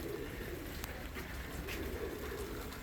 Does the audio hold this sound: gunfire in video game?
no